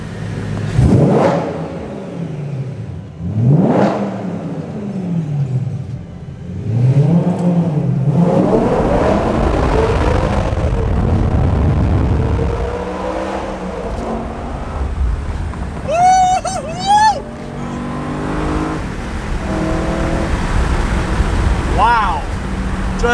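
A car engine revs repeatedly in rising and falling sweeps, then settles into sustained acceleration, loud and close, with people talking and exclaiming over it and brief high squeals near the end.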